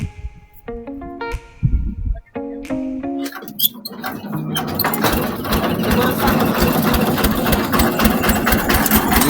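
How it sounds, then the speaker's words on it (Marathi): A small engine starts up in a village setting after a few sharp tonal beeps and clicks, then settles into a steady, fairly loud mid-pitched running drone that continues to the end. "इंजिन चालू झालं की आवाज काय येणार नाही."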